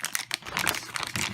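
A reusable Ziploc plastic bag crinkles and rustles in a series of crisp, close bursts as an Amiga A1200 Bifrost circuit board is pulled out of it.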